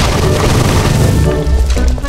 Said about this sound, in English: That shot made quick work of that crystal.